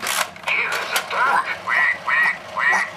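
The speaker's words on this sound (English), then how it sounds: "Quack, quack." A duck quacks in a quick run of five or six short, nasal calls at an even rhythm, fairly close and clear, with a few brief noisy sounds mixed in at the start.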